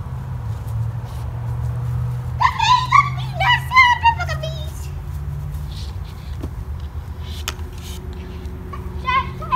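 A puppy whimpers and yips in short, high bursts close by, with children's voices in the background.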